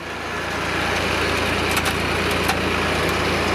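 A compact John Deere tractor engine runs at a steady idle close by, a constant droning hum with a few faint clicks over it and no talking.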